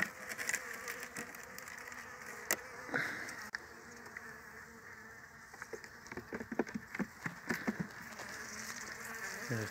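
Dense buzzing of many honeybees close by in an open hive, a steady drone with scattered sharper wingbeat flicks and soft patter, no talking.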